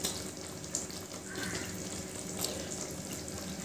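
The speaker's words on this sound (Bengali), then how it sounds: "গ্রেভিটা ফুটে উঠেছে, এরপর আমি ভেজে রাখা ফুলকপির টুকরোগুলো দিয়ে দিচ্ছি।" Cauliflower korma gravy bubbling in a pan as pieces of fried cauliflower are dropped in, a steady watery simmer with soft splashy bursts and no talk.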